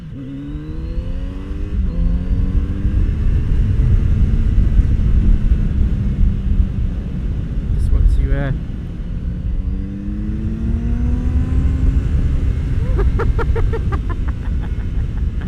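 A 2019 Kawasaki Z900RS Cafe retro motorcycle on a test ride, its engine rumbling and revving through the gears with rising and falling pitch, close and loud over wind, with no talking.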